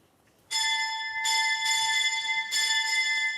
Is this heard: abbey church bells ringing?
yes